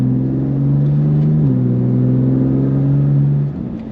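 A BMW M4 fitted with a titanium exhaust pulls away from a stop, its loud, close engine drone climbing steadily in pitch, shifting once, then easing off toward the end.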